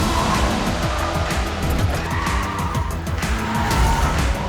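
A Porsche Taycan electric sports car roars loudly and steadily with tire noise and a brief squeal as it brakes hard into a corner, close up.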